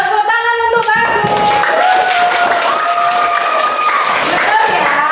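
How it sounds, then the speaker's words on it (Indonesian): A second-grade class claps together in the classroom, a loud, steady patter of many small hands mixed with children's voices. "Tepuk tangan untuk bagus."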